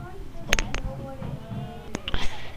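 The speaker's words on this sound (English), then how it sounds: "it was me hitting a keyboard on a desk" A computer keyboard is struck against a desk, giving several sharp, clattering knocks in small clusters. Soft voice sounds murmur in the background between the hits.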